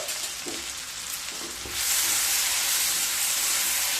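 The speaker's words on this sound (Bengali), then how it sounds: "পেঁয়াজগুলোকে হালকা ভেজে নিয়ে তারপর ফিরে আসছি।" Medium-cut onions with salt sizzle lightly in a pan, a steady frying hiss with a few stirring scrapes, growing louder and brighter partway through as the sizzle picks up.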